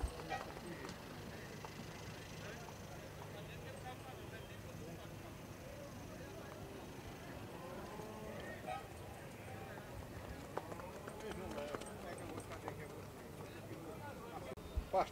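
Horse hooves clip-clop amid a busy crowd at a horse fair in Cachoeirinha, Pernambuco, with people talking throughout and a steady murmur of activity in the background.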